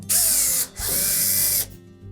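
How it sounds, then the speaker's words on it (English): A cordless power drill backs Phillips head screws out of the top panel of a Samsung clothes dryer: two close, loud whirring runs, the first about half a second and the second just under a second, with a brief pause between. "you'll need to remove 2 screws located on the back edge of that top panel"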